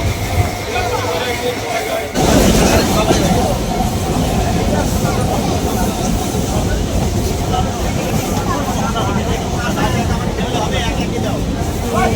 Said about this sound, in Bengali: তো এই ছিল দেবগ্রাম থেকে পলাশি ট্রেন জার্নি